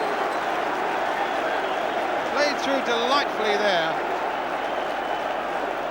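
Large football crowd at a 1984/85 Chelsea v Manchester United match, a steady broad roar of cheering and applause filling the whole stretch, with a commentator talking over it.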